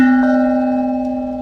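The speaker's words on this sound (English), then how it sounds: "We got the dinner bell up here." Dinner bell rung in a Florida poolside garden, one clear bright strike that keeps ringing steadily with strong sustained tones, close and loud, fading slowly over a second and a half.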